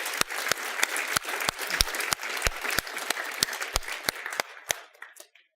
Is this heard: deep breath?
no